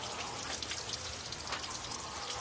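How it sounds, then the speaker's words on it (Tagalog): Steady rain falls outside, a soft continuous hiss with scattered drops pattering on surfaces, heard alone at a moderate distance. "Naulan ngayon dito sa lugar namin."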